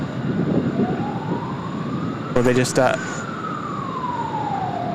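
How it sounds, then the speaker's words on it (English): An airport fire truck's siren sounds in the distance, its tone sweeping slowly up and down across several seconds over steady background noise at an airport beside the runway, with a brief burst of other noise and a few spoken words partway through. "If you can hear that siren, that's 10 to 9."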